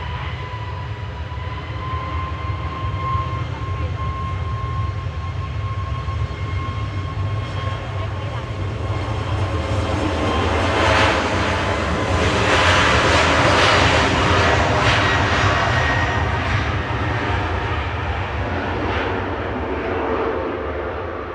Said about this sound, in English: definitely a D-rated takeoff that. Didn't need all of its power to get up.